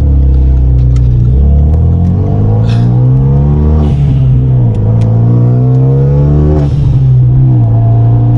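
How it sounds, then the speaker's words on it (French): Renault Mégane RS 300 with a turbocharged engine and full exhaust revving loudly up and down through gears, with dump valve blow-off hisses breaking in as the throttle lifts. "vous avez pu entendre du coup le fameux dump valve, donc la dépression de turbo"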